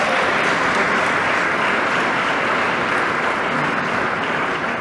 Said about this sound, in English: Let's give a round of applause to Labor.